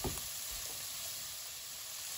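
Chunks of beef fry in a pot with three bay leaves and caraway, giving a steady, close sizzle with faint stirring scrapes near the start and no speech.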